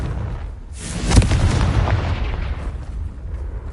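Confringo fire spell from Hogwarts Legacy exploding in one loud booming blast that rolls out into a long rumbling tail, with no talking.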